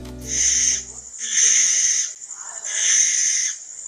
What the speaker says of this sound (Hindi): नंबर 7, बारनाउल। रहस्यमयी रात का शिकारी।